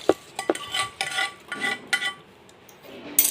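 Spoon scraping and clinking against a steel pot as cooled tempering with asafoetida is mixed into Telugu magaya mango pickle; several distinct close taps and stirs spaced across a few seconds.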